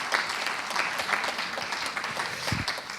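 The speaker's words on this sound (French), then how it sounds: "On peut applaudir aussi." Dense audience applause at a label award ceremony, steady and fairly loud throughout, a continuous wash of many hands clapping with a brief low thump near the end.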